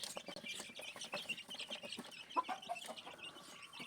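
A busy flock of chickens and chicks clucks and peeps continuously, soft overlapping calls with occasional sharper chirps, fairly quiet.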